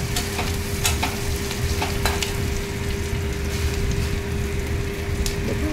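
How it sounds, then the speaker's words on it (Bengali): Sliced onions and whole garlic cloves fry in hot oil with five-spice seeds, giving a continuous close sizzle broken by repeated scraping stirs of a spoon in the pan, with no talking. "তার উপরে পেঁয়াজ দিয়েছি, কপোয়া রসুনও দিয়েছি গোটা গোটা, দিয়ে ভালো করে লাল লাল করে ভাজছি"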